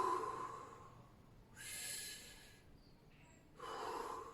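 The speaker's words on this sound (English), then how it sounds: "take 2 deep breaths" Deep breaths taken as part of an emotional-processing exercise: two audible breathy bursts, each a sharp inhale or forceful blow-out lasting about a second, close and fairly loud, with soft breathing noise between and no talking.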